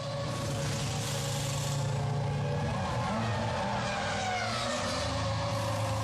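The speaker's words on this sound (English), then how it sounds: "Remember, he goes out on the rev limiter, limiting the speed as he goes up the pit lane." A Formula 1 car at the 2000 Japanese Grand Prix pulls out along the pit lane held on its speed limiter, a loud, steady buzzing engine drone with a slight pitch sweep near the midpoint, close and continuous throughout.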